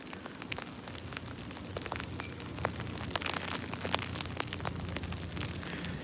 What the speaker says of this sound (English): It's like hail coming down, guys.